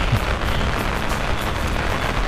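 Steady rain falls close by near Laguna de Bay, a dense, even hiss that holds for a couple of seconds with no voices over it.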